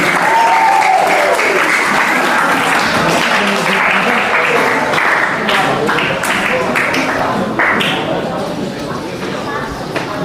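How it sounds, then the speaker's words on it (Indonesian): A school audience of teachers, staff and students gives sustained, dense applause for Mbak Tunjung at a special class on mental awareness. The clapping stays loud and steady for about ten seconds, with a few voices underneath, and eases slightly near the end. "Yuk, tepuk tangan untuk Mbak Tunjung."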